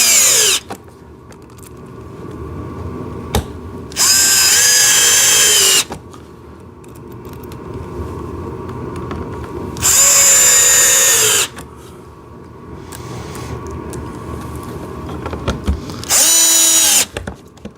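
Power drill driving small screws into parts of a blue and red JCB ride-on tractor excavator during assembly, three loud whirring bursts of about two seconds each, separated by quieter handling and clicks.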